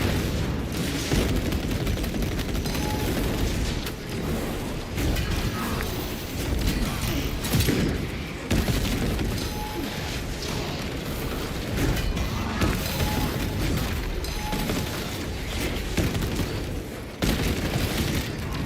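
Dense, continuous combat din from a Warhammer 40K Space Marine video game, with a shock grenade explosion buried among repeated booms and rapid gunfire-like bursts, loud and steady throughout with only brief dips.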